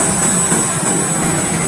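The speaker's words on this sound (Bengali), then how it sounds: "দেখুন কিভাবে হেলিকপ্টার উপরে উঠছে।" A helicopter lifts off at a landing site in Narsingdi, its engine and rotor roar loud, close and constant, a dense steady whine and rush of air with no talk over it.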